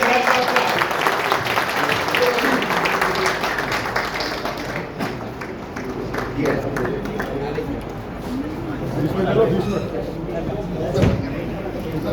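An audience at a community association gathering applauds in a broad, sustained patter, with voices and crowd murmur mixed through the clapping.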